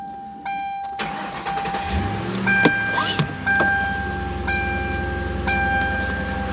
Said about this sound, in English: Okay, gonna turn the car on.